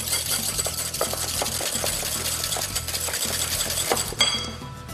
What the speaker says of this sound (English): Now give that a really nice whisk.